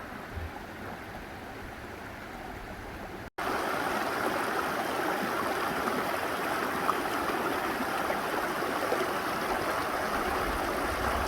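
Obsidian Falls, a waterfall on the Pacific Crest Trail in Oregon, gives a steady, loud broadband rush of falling water, with the roar swelling sharply a few seconds in and holding constant after that.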